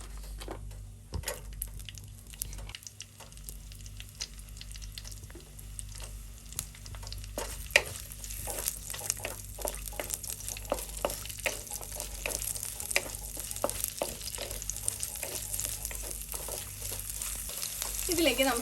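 Shallots frying in coconut oil in a pan, a steady, close sizzle with occasional stirring clicks and crackles, rising in brightness partway through.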